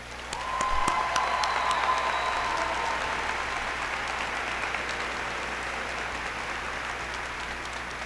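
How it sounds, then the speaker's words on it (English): A graduation audience at Menchville's 2017 ceremony breaks into loud, sustained applause, a dense, steady roar of many hands clapping that holds at full strength throughout. "let us give a round of applause for the man who brought us together as a family, Mr. Bobby Surrey."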